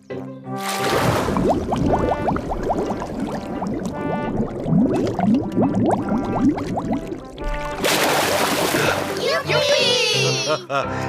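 Cartoon Daddy Pig dives into water: a burst of splashing and sloshing rings out amid busy children's chatter and character voices, with another bright splash-like burst near the end.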